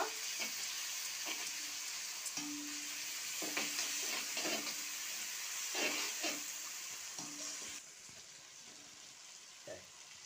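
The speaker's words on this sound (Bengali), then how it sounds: "এখন আমি 1 চামচ রসুন বাটা দিয়ে দিচ্ছি। রসুনটা একটু ভালো করে নেব।" Garlic paste frying in a pan with already fried onions and capsicum for chilli chicken, a moderate sizzle broken by repeated scraping stirs and clinks, fainter toward the end.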